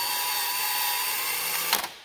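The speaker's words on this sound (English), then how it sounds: "you can just kick the drill on" A power drill spins a length of brake line tubing chucked in its jaws, giving a steady high whine for about two seconds before a short burst of rattling clicks near the end.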